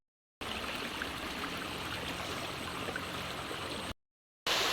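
A small creek flows in a steady, soft rush of trickling water that stays constant and moderately close, with no voices; it breaks off briefly and then resumes at a higher level.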